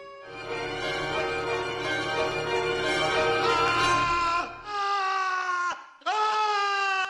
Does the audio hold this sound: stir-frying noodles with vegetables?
no